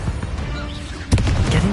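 A Bombarda explosion spell in Hogwarts Legacy, heard as a sudden loud blast partway through after a quieter stretch of game ambience, followed by crackling debris and rumble.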